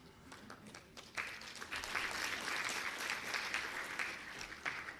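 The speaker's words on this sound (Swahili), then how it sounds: "naomba tena tuwapongeze kwa makofi mengi kabisa kabisa" A crowd applauds at a Dodoma government ceremony receiving EU budget support funds: sustained, fairly distant clapping swells after a second and carries on steadily to the end.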